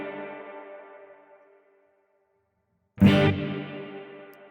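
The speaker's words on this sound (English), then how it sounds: "how much mids do I want to have in my reverb sound?" Electric guitar played through a Strymon BigSky pedal on an arena hall reverb with adjusted mids: a sustained chord rings out and decays to silence, then a fresh strum blooms with a long, washy tail.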